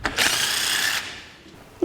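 Power impact tool tightening nuts onto bolts on a scratch-built frame rotisserie for a 1949 Chevrolet Gasser, one sustained close buzzing run of about a second, then quiet workshop ambience and a brief clank at the end.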